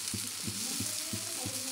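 Wheat flour dhirde batter sizzling in hot oil on a pan, a steady close hiss with soft rhythmic bubbling pulses, no talk.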